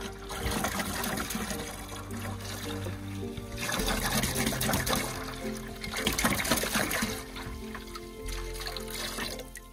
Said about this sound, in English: Let the bilge pump get rid of some of this so we can see.